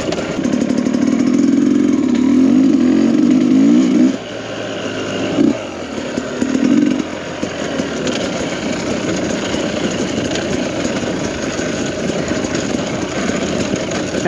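A Sherco 300SE two-stroke or 300SEF four-stroke dirt bike running on mountain single track, its engine droning and revving close by, rising and falling steadily throughout with no talk.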